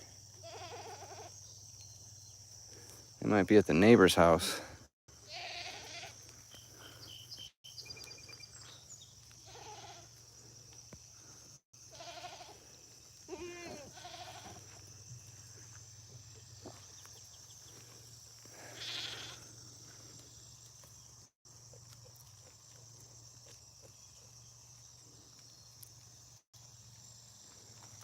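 On a farm, a goat gives one loud, close bleat, followed by fainter scattered bleats over steady cricket chirping, and someone speaks briefly.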